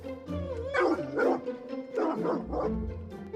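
A pet dog barks repeatedly and excitedly inside a car, a run of close, loud barks and yips in uneven bursts with a low rumble underneath.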